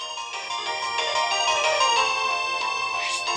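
A phone ringtone plays on its own, a steady electronic melody with bright tonal notes held at an even level across a few seconds.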